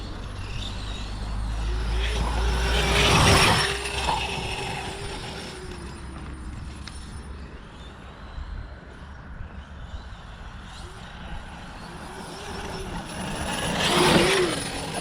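A Losi 5ive-T large-scale RC car runs at full throttle down a straight, its motor giving a continuous mechanical whine with louder close passes near the start and end, and faint background noise between.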